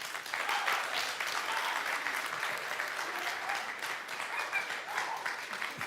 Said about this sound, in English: You're getting applause from everybody.